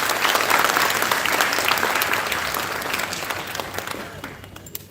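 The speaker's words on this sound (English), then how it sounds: "Can we have a huge round of applause for him?" Audience at a campus program opening ceremony gives a big round of applause for a guest speaker, dense clapping that starts strong and gradually thins and fades toward the end.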